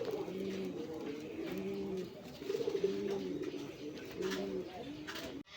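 Moyna flock pigeons, an old local breed, coo in repeated rolling phrases, roughly five bouts in a steady rhythm, close and clear over faint background noise.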